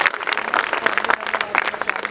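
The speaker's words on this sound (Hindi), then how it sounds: "इसके लिए एक जोरदार तालियां" A crowd of students at a college farewell party claps loudly, a brief dense burst of applause lasting a couple of seconds.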